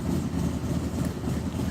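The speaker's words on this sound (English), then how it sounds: "I apologize for the noise. I got my slider open and there's a loud motorcycle." A loud motorcycle idles outside an open sliding door, a steady low rumbling drone heard from a short distance with no other sounds over it.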